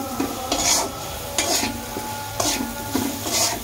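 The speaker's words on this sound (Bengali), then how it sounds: "এই যে নাড়তে শুরু করলাম। দেখছেন এই অবস্থায় একটু ভাজা ভাজা করে নেব, মশলাটাও ভাজা হবে এবং কষানো হয়ে যাবে" Potatoes and spices are stirred and fried in a pan, with a spatula scraping in a rhythm of about five strokes over a soft, continuous sizzle, close and fairly loud.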